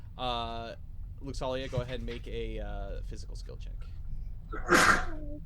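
A single sharp sneeze bursts out near the end, following conversation among players around a tabletop role-playing game session.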